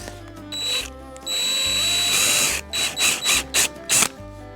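A power drill runs in steady bursts, first two long whirring runs, then several short rhythmic pulses, close and loud with no talking.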